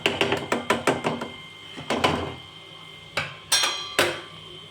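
Vegetables for bhaji being mashed in a pan, a close run of sharp metallic knocks and clanks of the masher against the pan, quick at first, then sparser hits after a short pause.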